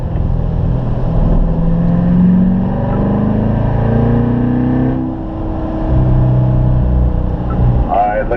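A Corvette on a driving-school track at the Spring Mountain Corvette school runs its engine loud and close, with the pitch rising and falling through gear changes.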